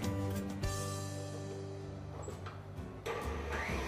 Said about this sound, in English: it's gonna go in the KitchenAid, and I want to give it a good whisk